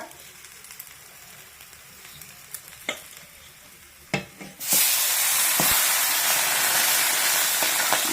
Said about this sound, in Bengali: মাছগুলো আগে আমি ভেজে নিচ্ছি